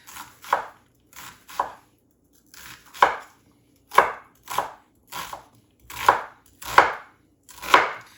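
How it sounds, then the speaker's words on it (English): A knife dices onion on a cutting board in a run of crisp, close chops, spaced unevenly with short pauses between them, with no talk. "we'll just make those into little small dices"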